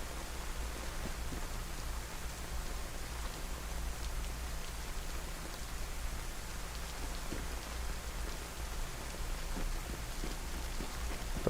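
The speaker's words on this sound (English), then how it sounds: "But the sound of rain too often to me sounds like" Steady rain falls in the DayZ survival video game, a constant soft patter on surfaces that continues evenly throughout with no voices over it.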